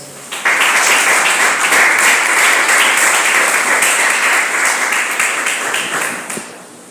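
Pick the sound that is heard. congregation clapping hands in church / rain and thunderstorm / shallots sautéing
congregation clapping hands in church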